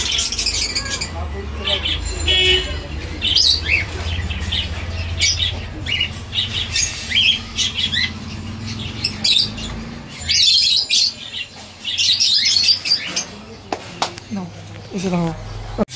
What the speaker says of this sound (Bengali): একজোড়া রানিং ডিম বাচ্চা করা কোকাটেল পাখি